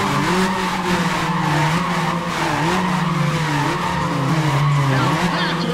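Racing cars roar loudly with shrieking tire squeal and skidding, engine pitch rising and falling continuously as the vehicles push hard on the strip.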